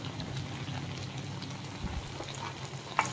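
Chilli paneer sauce with green chilli sauce, tomato ketchup and Schezwan chutney is stirred in a pan, a soft continuous sizzle and faint scraping with a brief clink near the end, fairly quiet and with no talking.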